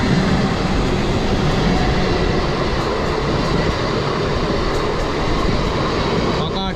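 A passenger train bound for Puri runs past, a dense, loud, steady rumble and rattle of rolling carriages lasting several seconds.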